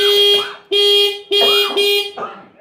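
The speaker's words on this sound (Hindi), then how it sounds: "तो आइए हम इसका हॉर्न बजाते हैं," Horn of a Bajaj Pulsar 150 motorcycle sounded in four loud, close blasts of steady pitch, with short gaps between them and the last blast shorter and weaker.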